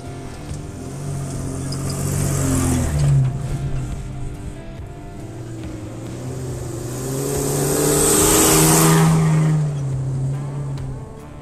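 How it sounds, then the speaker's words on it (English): An off-road vehicle grinds along a hardcore rocky trail, its engine droning low and steady with revs rising and falling, growing louder near the end; no talk. "the reason I'm showing you all this footage of my vehicle off-road"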